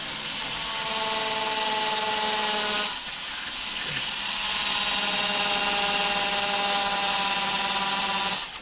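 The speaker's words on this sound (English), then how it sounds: "So I'll drill my pilot hole" A cordless drill whines steadily at close range drilling a pilot hole, its motor pitch dipping briefly midway before holding a strained, continuous drone through the end as the battery runs low.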